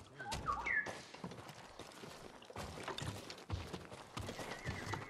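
A horse neighs sharply in a Ghost of Tsushima game scene, followed by hooves clip-clopping in uneven bursts, with faint bird chirps in the background.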